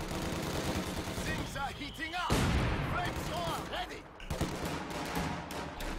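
Rifle gunfire as riflemen engage grenadiers holding a garrison in a Company of Heroes 2 1v1 match, with bursts and shots in a dense battle mix of game effects and explosions under continuous activity.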